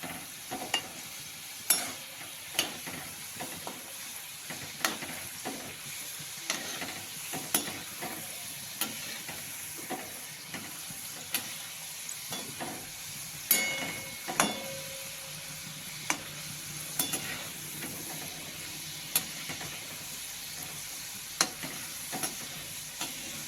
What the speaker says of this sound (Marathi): अशा प्रकारे आपण थोडे थोडे करून असे तळून घेऊ छान